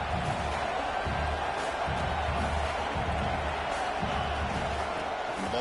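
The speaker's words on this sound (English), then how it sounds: "It's early, but this crowd is fired up. Listen to this noise here." A football stadium crowd roars in a steady, broad wash of noise from many distant voices, with faint swells and occasional shouts rising out of the din and no clear foreground talk.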